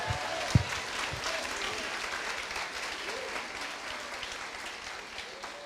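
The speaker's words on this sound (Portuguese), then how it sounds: "Será que você pode dar um aplauso de louvor ao Rei da Glória?" A church congregation breaks into praise applause during a worship service, broad continuous clapping from a large crowd with a couple of sharp thumps at the start and voices faintly mixed underneath.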